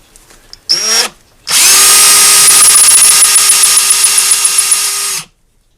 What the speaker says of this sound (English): All I'm going to do is just trim it down